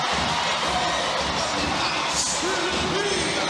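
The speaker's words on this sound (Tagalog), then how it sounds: "And listen to this crowd roar!" A packed volleyball arena crowd during a Philippines vs India match at match point: a loud, sustained roar of cheering and shouting that fills the whole moment, with no distinct speech.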